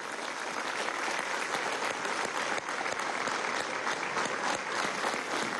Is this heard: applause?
yes